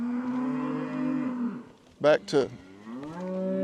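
Cattle moo from a creek-bottom fescue pasture while being called toward new pastures: a long low moo, then two short loud calls close by. A voice speaks lightly beneath.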